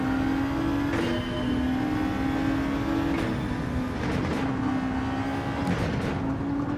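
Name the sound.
racing car engine revving in a racing video game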